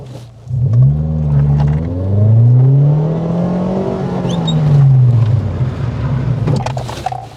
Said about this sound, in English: We need to control the rotation with the foot brake, and when it's squared off, then we increase it.